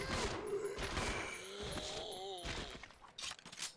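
Gunfire aimed at a zombie in Resident Evil Zero, a run of sharp, fairly rapid shots with ringing tails, mixed with game sound effects and a voice talking over it.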